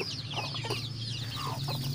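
Free-range village chickens cluck in a coop, a few close, short clucks over steady background hum and distant bird chatter.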